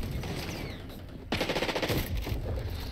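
Gunfire in the XDefiant shooter game: a brief lull, then a sudden loud burst of rapid shots that keeps rattling on, heard close with a muffled in-game backdrop.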